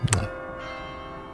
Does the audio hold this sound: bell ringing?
yes